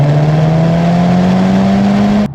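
A Toyota Celica GT-Four four-wheel-drive WRC rally car engine revs up loudly and close, its pitch climbing smoothly over a couple of seconds before cutting off abruptly.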